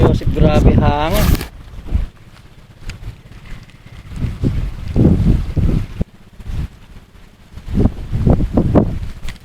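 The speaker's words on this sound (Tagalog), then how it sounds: "Grabe hangin." Strong wind gusts buffet the microphone beside the water at a tilapia fishing spot in Barangay Cupang, Muntinlupa, roaring loudly in bursts under excited voices.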